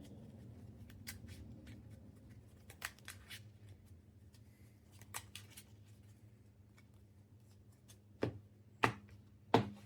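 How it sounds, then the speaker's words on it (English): Quick, uneven riffling and snapping of Yu-Gi-Oh trading cards shuffled by hand, a soft steady hum underneath and a few sharper clicks toward the end. "I'm not power shuffling this, I'm just doing this as fast as I can"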